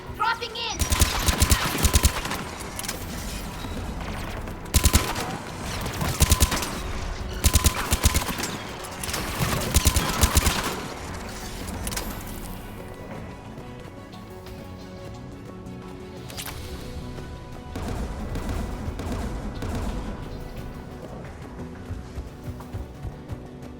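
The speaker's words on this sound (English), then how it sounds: "AA guns ahead of us" Anti-aircraft gun fire in the video game Mass Effect, loud rapid bursts of heavy rhythmic shots that come in waves and then ease into a quieter rumbling battle bed, with voices now and then.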